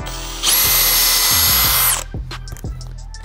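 A power drill drilling out rivets whines loudly for about a second and a half, then winds down, followed by light metallic clicks and handling noises.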